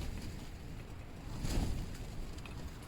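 Wind blows steadily against a tent at a camp, a close, continuous rushing buffet that swells briefly in the middle, with no voices.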